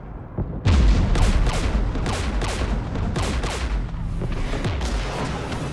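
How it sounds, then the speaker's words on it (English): Mass Effect 3 battle gunfire near a jamming tower guarded by Geth anti-aircraft guns: a loud, dense volley of rapid shots and booming blasts, with a heavy hit at the start and steady fire that follows. "We're taking fire."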